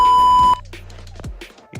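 A steady, single-pitched broadcast-interruption beep sounds loud and clear for about half a second, then cuts off abruptly, leaving quieter scattered sounds and brief low thumps.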